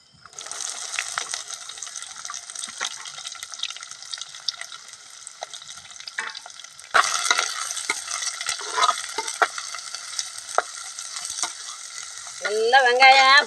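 Steady sizzling of chopped large onions frying in a pan until golden, with frequent scraping and clinking of a stirring spoon, growing louder midway and toward the end.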